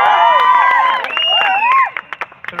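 A crowd applauds and cheers for Bhaskar Kumar at an event, loud whoops and shouts over clapping that breaks into scattered claps at the end.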